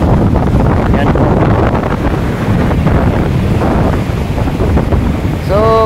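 Steady seaside breeze rushing across the microphone with a continuous surf wash of waves underneath, loud and unbroken throughout; brief tonal chirps near the end.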